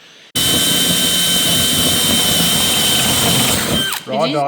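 A power drill boring mounting holes for carriage bolts while a mini off-road trailer is built, running as one long loud continuous whine close by, then stopping, followed by a brief voice.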